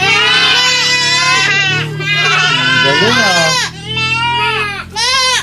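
A person imitates a goat bleating with a long, wavering, quavering cry that is close and loud and continues for several seconds. A brief spoken remark comes near the start.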